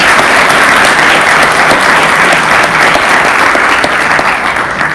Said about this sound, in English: another round of applause to our Papago John Gonu